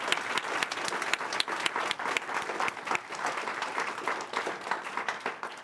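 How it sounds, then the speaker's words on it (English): A school board meeting audience breaks into applause, a moderately sized crowd clapping with distinct individual claps standing out, steady and fairly close, without talk over it. "Let's have another round of applause."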